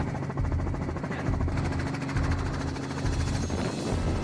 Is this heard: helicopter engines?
yes